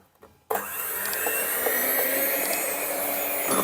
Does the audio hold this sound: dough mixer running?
yes